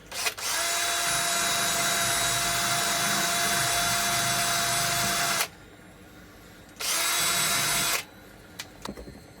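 A power drill fitted with a wire brush whines loudly for several seconds, stops, then runs again in a shorter burst, followed by a few light clicks.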